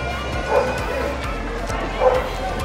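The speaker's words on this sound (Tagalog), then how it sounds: "May nagtatahulang aso at napakaraming tao" Dogs bark and yip inside a crowded covered court, two clear barks about a second and a half apart, mid-distance, under a steady murmur of crowd voices.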